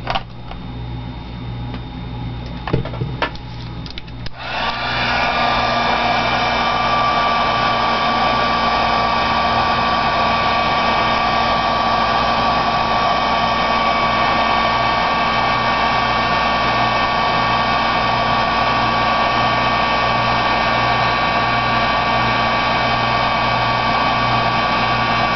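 A heat embossing tool blows hot air over a decorated tile, a steady loud whirring drone with a constant hum that starts after a few quiet seconds and runs unbroken, with no talking.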